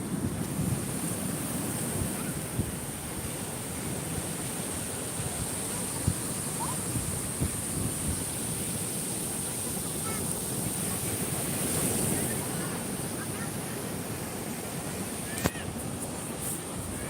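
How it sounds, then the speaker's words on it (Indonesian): Ocean surf breaking on a shore, a continuous broad wash of waves with steady wind buffeting the microphone, no talk heard over it. "Kita nikmati deburan ombak."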